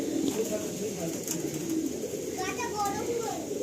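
Pigeons in a loft at Ranihati cooing in soft, low, repeated burbling calls close by, with brief higher chirps and a little background chatter mixed in.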